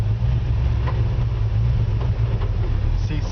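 A 1954 Ford F100 with a 429 big block V8 runs with a deep, steady low rumble close by, and faint ticks and noises sit over the engine drone.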